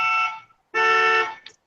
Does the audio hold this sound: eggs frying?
no